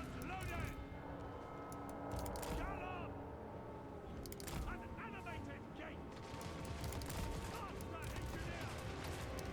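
An army firing on Black Orcs from high ground in a video game, dense crackling volleys and metallic clashes layered with battle noise, mixed under a steady bed of speech.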